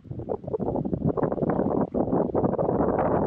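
Strong wind buffets a fishing boat at sea during rod fishing for red snapper and grouper, a loud, continuous rumbling roar across the microphone with no talk.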